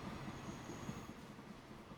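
A livestock train running in the video game Transport Fever 2, a quiet continuous rolling rumble of rail wheels with a faint thin squeal partway through, no voices.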